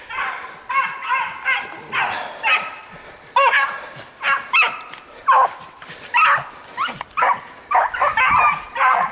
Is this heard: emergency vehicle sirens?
no